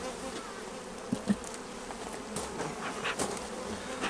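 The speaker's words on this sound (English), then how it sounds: "Again, the bees seem nice and calm." Honey bees hum softly and continuously around an opened hive during a weekly inspection, with a faint, steady drone and a few small bumps of handling noise.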